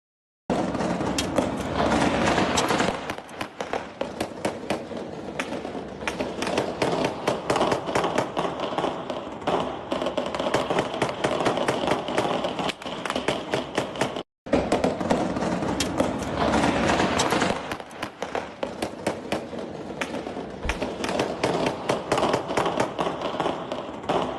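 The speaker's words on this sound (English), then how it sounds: "The hills are alive with the sound of gunfire." Distant gunfire and firecracker-like pops echoing across hills on New Year's night, a dense, continuous crackle of rapid cracks and bursts layered over each other, fairly faint and far off with no talk over it.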